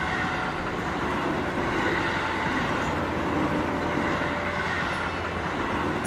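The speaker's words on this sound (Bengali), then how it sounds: "তারপর এলো রামদেওয়ারার কাছে মরুভূমির মধ্যে রেল।" A train rumbles steadily through the desert near Ramdevra as an audio-drama effect, a dense, continuous roll of wheels and carriages with a faint squeal, with no voices.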